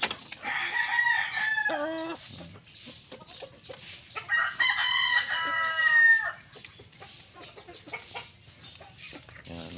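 Shamo and native chickens clucking and crowing close by in a farmyard, with several overlapping loud crows and steady clucks and cackles throughout.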